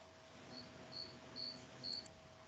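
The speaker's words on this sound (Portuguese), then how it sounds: "Olha o grilo aí." A cricket chirps in short, evenly spaced bursts, four in a row, faint against a quiet indoor background with a low steady hum.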